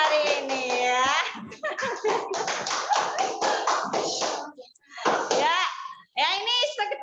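Children clap and tap during an online Zoom class, scattered irregular claps mixed with children's voices, the sounds uneven and broken by short pauses.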